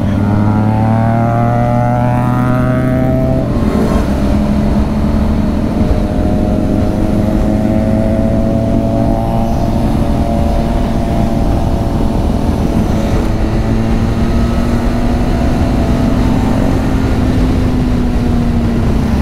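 A Benelli TNT 600 motorcycle with its stock exhaust runs continuously, a loud, steady engine drone whose pitch drifts slightly up and down throughout.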